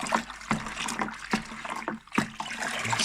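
Homebrew lager mixture being stirred in a vessel, giving watery swishes and sloshes in a rough rhythm of about five strokes, close and moderately quiet.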